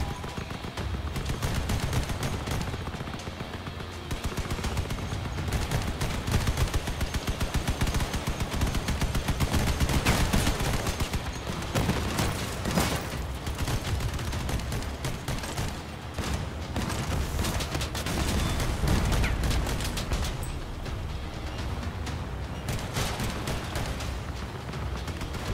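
Sustained vehicle gunfire in the post-apocalyptic vehicle combat game Crossout, dense rapid bursts of shots and booms rolling continuously under a loud, busy battle mix with no breaks.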